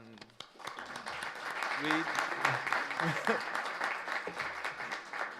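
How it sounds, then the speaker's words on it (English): Audience applause at a bioresources science workshop, a broad steady wash of clapping swelling after a brief start and holding for several seconds, with a voice speaking over it at the beginning. "We make an applause for the Professor"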